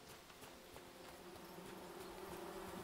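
Bees buzz steadily around a beehive in the video game Among Trees, a faint continuous insect drone with a dense hum and no speech.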